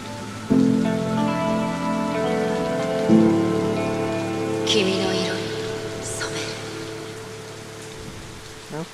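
Steady rainfall in the Honkai: Star Rail Acheron trailer, a continuous patter running beneath sustained musical tones throughout.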